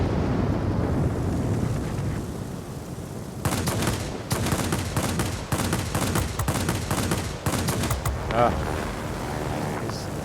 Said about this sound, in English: It's annoying when the shots don't hit, but shots don't tend to hit as much with ground attackers as they do with other fighters.